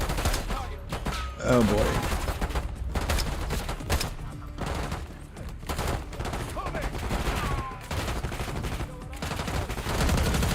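A sustained video game gunfight with dense, overlapping bursts of gunfire and rapid shots throughout, and someone speaking briefly over the shooting.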